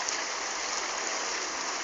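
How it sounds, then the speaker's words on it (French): An air pump pushes air into a pond filtration tank, giving a steady, dense bubbling and fizzing hiss that stays constant and close throughout. "On remarquera l'arrivée d'air avec une pompe."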